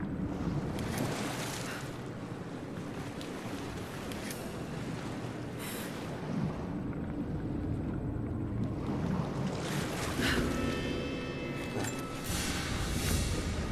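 Wading and splashing through freezing cold water in Rise of the Tomb Raider: a continuous wash of churning water and wind-like rushing, moderately quiet and steady, with a few brighter splashes and no speech.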